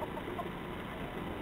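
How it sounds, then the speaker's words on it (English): Chickens at a community coop clucking softly and steadily, a continuous low hen chatter held close and even throughout, with no talk over it. "Kathy, the chickens are coming to see you."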